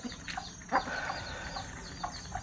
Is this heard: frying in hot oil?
no